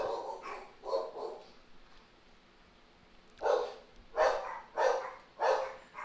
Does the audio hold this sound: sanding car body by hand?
no